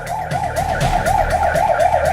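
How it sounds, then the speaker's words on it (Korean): A 119 emergency ambulance siren in Korea wails in a fast, repeating yelp cycle, loud and close, over low road and engine rumble, with no voices. "거리를 깨우는 요란한 사이렌 소리와 함께 꺼져가는 생명을 살리기 위해 출동합니다"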